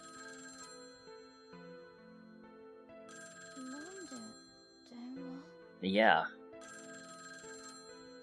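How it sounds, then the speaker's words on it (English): An old rotary telephone rings inside a classroom in the game Tokyo Babel, a few bursts of bright electronic ringing over quiet background music, with a short spoken word and a louder chime-like burst near the end. "why would I be hearing a ringing sound in here? Whence comest thou, O sound? Sure enough, an old rotary phone"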